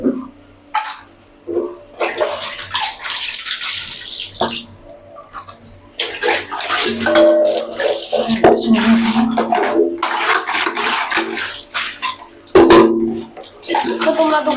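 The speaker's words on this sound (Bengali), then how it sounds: "স্নান করবো" Water runs loudly and steadily from a tap filling a bath, a continuous close rush broken by brief pauses, with a voice speaking at times.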